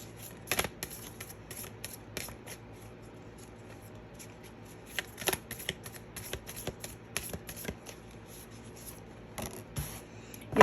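A Moonology tarot-style card deck is shuffled by hand in repeated bursts of crisp riffling and flicking, close and fairly quiet, with short pauses between bursts and no talking.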